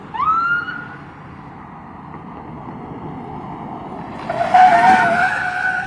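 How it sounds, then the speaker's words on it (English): Tires squeal on a military police car arriving code 3 with its siren wailing, loud and close, the screech rising sharply near the end with no talking. "that is military police coming in code 3 squealing tires for me"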